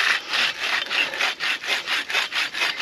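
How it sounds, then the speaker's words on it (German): A pipe bow saw cuts through a wooden log in steady back-and-forth strokes, each rasping pass evenly spaced and close by. "da kann man schon mal ein bisschen dann rumsägen"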